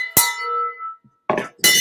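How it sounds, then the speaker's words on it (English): A victory bell struck once with a bright metallic clang that rings out and decays over about a second, followed by short bursts of other sharp noise. "victory bell"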